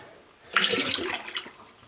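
Water poured to refill a chicks' drinker, starting suddenly as a rushing splash that stays steady for over a second, then trails off in a few trickles.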